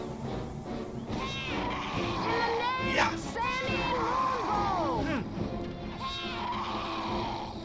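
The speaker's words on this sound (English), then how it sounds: "They have a very unflattering scream." A creature in the Neverwinter Nights role-playing game lets out shrill, wavering screams and cries in several bursts, layered over game music and effects while a person talks.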